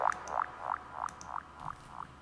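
Squelchy psy trance synth effect, shaped by automated low-pass and high-pass filter cutoffs and volume, firing six rhythmic rubbery sweeps in a steady pulse, moderately loud and alone.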